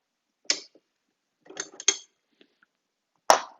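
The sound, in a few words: pins being pushed and pulled out of a Demco tow bar trigger handle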